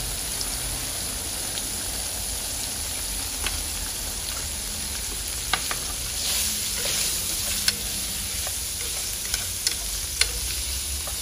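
Tofu stir-fries in a pan with a continuous close sizzle, like light rain, while a spatula scrapes and taps now and then over about eleven seconds, with nobody talking.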